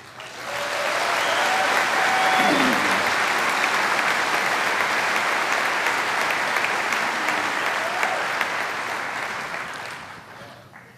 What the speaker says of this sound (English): I would ask that you hold your applause until the end